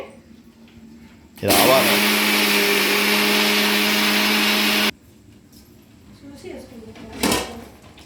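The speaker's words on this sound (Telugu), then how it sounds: "మిక్సీ పడుతున్నానండి" A mixer grinder powders roasted fenugreek and mustard seeds in one loud, steady whirring burst of about three seconds, then shuts off abruptly; quieter handling noises and a short rustle follow.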